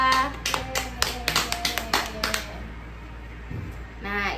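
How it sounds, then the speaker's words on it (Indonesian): A short burst of classroom applause for a student group, brisk overlapping claps for about two seconds before fading into room quiet, with a voice at the end. "beri tepuk tangan untuk kelompok 2"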